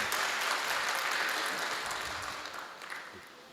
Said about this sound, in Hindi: तो तालियों से अनुमति दी जाती है।